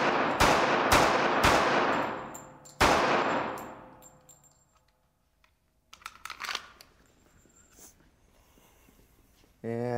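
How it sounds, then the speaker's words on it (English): Several loud .45 pistol shots fired into lightweight body armor, sharp cracks with ringing decay, then quieter clinks and handling noises before another shot at the end. "put a few 45s in there like we did with the 9, and see what happens after 4 or 5 shots"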